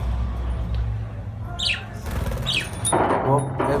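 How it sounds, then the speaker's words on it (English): Pet budgies in an indoor cage give a few quick high chirps and a brief flutter of wings, mixed with scraping and rustling, while a person talks over them. "Here is my birds, which is Budgies birds."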